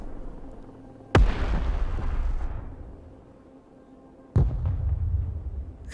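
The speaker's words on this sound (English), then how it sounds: "Is that artillery? Oh no, that's the ship." Heavy artillery fire from an enemy ship in Broken Arrow, two deep booming blasts a few seconds apart, each followed by a rumbling tail, loud and close with no talk.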